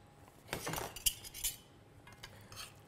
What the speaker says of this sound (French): On mélange délicatement.